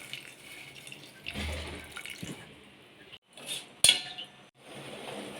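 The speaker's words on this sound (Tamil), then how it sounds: "அது கூட கொஞ்சம் தண்ணி, அது கரையிறதுக்கு." Water being poured over jaggery in a metal pot for a sweet, with splashing and clinking of utensils against the vessel, a brief sharp clink near the end, close and moderately quiet.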